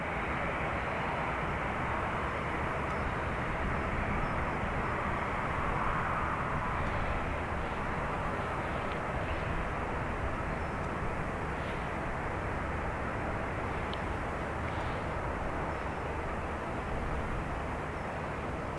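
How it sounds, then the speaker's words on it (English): Airbus A321neo jet on flight EI 109 to JFK at Dublin Airport, a continuous broadband engine roar, steady and fairly distant, with no talk. "It's a 321 Neo heading to JFK."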